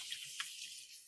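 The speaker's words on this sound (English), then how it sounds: "Give my hands a quick rinse." Water runs from a kitchen tap while hands are rinsed, a soft steady hiss with a couple of brief splashy bursts, fairly faint and with no talking.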